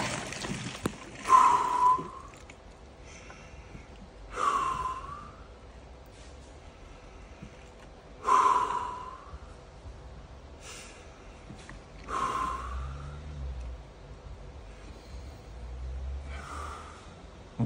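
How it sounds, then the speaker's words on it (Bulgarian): Slow, deep breaths from a person entering ice water, with strong nasal inhales and exhales repeating about every four seconds, close and fairly loud. "Дишите дълбоко."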